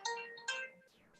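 A phone ringtone from an incoming call plays two bright, close electronic tone bursts followed by a short gliding tone. It is fairly quiet, with no talk over it.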